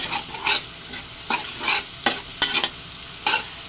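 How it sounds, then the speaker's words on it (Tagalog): Onions sautéing in a pan for buttered chicken adobo, with repeated bursts of sizzling and scraping as they are stirred, several distinct stir strokes over a low frying hiss. "lalagay na natin ang ating sibuyas. Isusutay lang muna natin sila"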